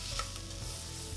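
Toor dal lentils being stirred in a sizzling pan, a brief, faint scrape of stirring over a low frying hiss, with no talking.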